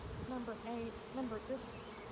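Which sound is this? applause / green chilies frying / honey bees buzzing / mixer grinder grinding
honey bees buzzing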